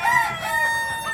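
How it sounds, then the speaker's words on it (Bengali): A Sonali chicken rooster crows once, loud and close, a drawn-out wavering call filling the whole short moment. "সোনালী মুরগি।"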